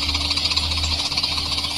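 Homemade model airplane powered by an old grass cutter engine, a loud, fast, rattling buzz running steadily throughout with slight pulsing.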